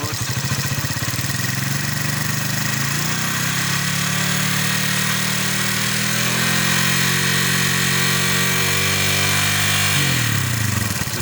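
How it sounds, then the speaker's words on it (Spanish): Motorcycle engine with a three-phase stator coil, idling and then revving up as the throttle opens, its pitch climbing steadily before dropping back sharply near the end; loud, close and continuous, with no talking. "si tú aceleras la moto"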